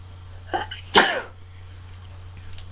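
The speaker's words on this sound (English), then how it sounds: "I'm gonna sneeze again." A woman sneezes once from allergies, a short breathy build-up snapping into a loud close sneeze, then quiet room tone.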